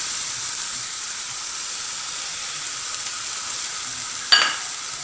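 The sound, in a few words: tomato pulp sizzling in pan with cooked onion paste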